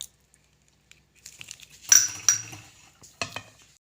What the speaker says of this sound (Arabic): الحين بنخلط البيض مع السكر مع الفانيليا